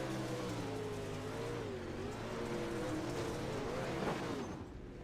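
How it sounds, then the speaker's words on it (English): A pro late model race car engine on throttle at Lernerville Speedway, a steady loud drone with rising and falling pitch as it revs through the turns, easing off near the end. "Hear the throttle as well."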